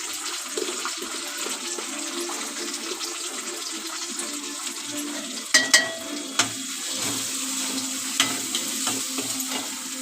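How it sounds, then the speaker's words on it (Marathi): Onion fries in a pan, a steady sizzle with a few sharp clinks and scrapes of a spoon stirring partway through, close by with no voices. "मग टाकूया कांदा। कांदा पण थोडा लाल करून घेऊया।"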